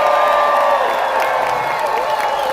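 A large outdoor crowd at a Berlin drag rally on John-F.-Kennedy-Platz cheers loudly for drag performers, a sustained roar of shouts and whoops filling the whole moment.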